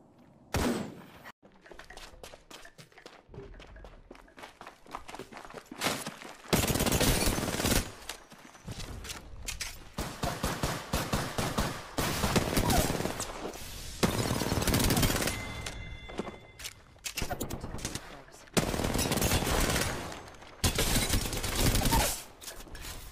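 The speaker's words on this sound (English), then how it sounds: "Those shots are from another squad." Gunfire from another squad during an Apex Legends match rattles in repeated loud bursts of rapid automatic fire, separated by short quieter gaps, with occasional heavy thunks mixed in.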